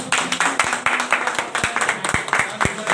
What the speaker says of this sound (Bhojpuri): जोरदार ताली ये भी भैया की।